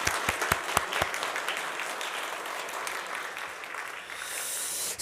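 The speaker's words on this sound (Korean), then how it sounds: "어른들이 크게 박수로 격려했으면" A church congregation breaks into applause after the Sunday morning service call, a few sharp claps opening into a sustained, dense round of clapping filling the room for several seconds before tapering slightly.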